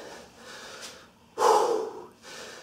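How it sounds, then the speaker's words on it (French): Heavy, close breathing follows an intense ab workout, with a few labored breaths and one loud, forceful gasping exhale in the middle. "C'est normal qu'on soit essoufflé."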